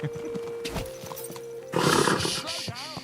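A horse in the video game Kingdom Come: Deliverance II whinnies over clip-clopping hooves, with a loud rushing burst partway through and some faint vocal sounds.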